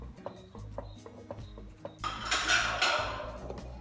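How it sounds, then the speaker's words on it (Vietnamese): A peanut rice cake batter being stirred in a pot, with scattered light scrapes and taps of the utensil against the pot, then a louder, denser stretch of rubbing and scraping in the second half. "Mình sẽ quấy lâu một chút nhé, để cho cái phần bánh của mình dẻo dai nhất nhé."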